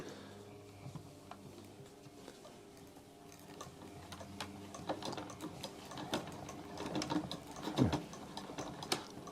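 A fishing reel spool turned by hand to wind line gives a faint, steady ticking and ratcheting whir with small irregular clicks, close by and without talk.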